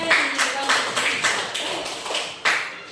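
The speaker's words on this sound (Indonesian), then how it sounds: "tepuk tangan untuk Moses" A classroom of pupils claps for a boy, a string of separate sharp claps, close and fairly loud, with no talk over them.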